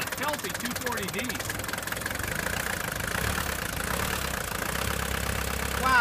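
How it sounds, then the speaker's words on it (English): A Mercedes-Benz 240D diesel engine idles steadily just after start-up, giving a continuous close rumble with a faint knock, while voices talk over it. "Listen to that sweetheart run. You can tell by the sound, this is a healthy 240D."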